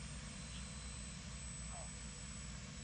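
A JetExec jet turbine engine at stable idle, a loud, steady broadband roar with a constant high whine, unbroken and close for the whole moment.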